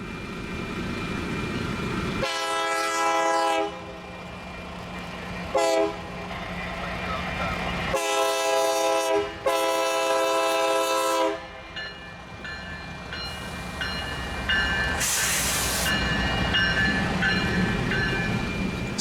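A BNSF freight train led by a GP40X in new BNSF paint, trailed by a GP60 in Santa Fe warbonnet colors, rolls past with a steady rumble, its horn blaring in several loud, long blasts.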